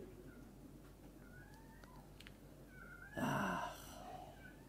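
Cat with a short meow around three seconds in, loud and close, after faint quieter cries in a quiet room.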